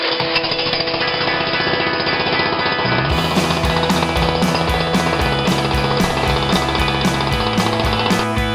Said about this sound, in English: we're going to be jackhammering that up right now and getting down there and exposing the pipe